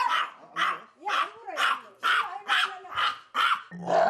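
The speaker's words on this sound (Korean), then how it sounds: "오늘도 역시 제작진을 반겨주는 건 앙칼진 짖음 소리." A small dog at a home doorway gives a run of sharp, shrill barks, about eight in quick succession with growls between them. The sound is close and loud, and there is no talk.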